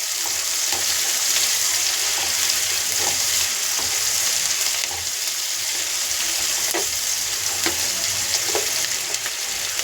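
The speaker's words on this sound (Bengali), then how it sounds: "লবণটা দিলে তাড়াতাড়ি পেঁয়াজটা ভাজা হয়" Onions frying in a pan with a little salt, a steady loud sizzle with occasional stirring scrapes, close and continuous, no voices.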